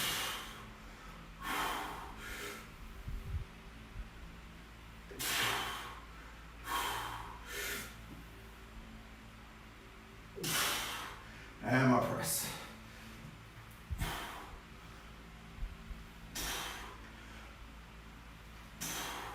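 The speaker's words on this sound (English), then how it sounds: "Breathe in, 2, 3, out." Forceful breaths are pushed out in bursts during paused barbell front squats, loud sharp exhales and snorting inhales recurring every few seconds over faint background hum.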